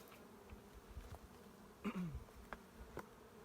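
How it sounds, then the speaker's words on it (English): A low, steady hum of honeybees buzzing close by, with a few louder passes as individual bees fly near. "nice full hive of bees, a lot of honeybees in here"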